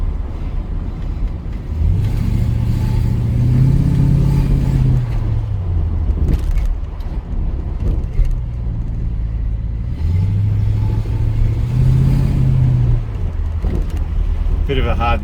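A 1991 Jaguar XJS with a V8 engine is driven through traffic. The engine hums at a close, loud, low pitch and swells twice as it accelerates, then settles back to a steady drone.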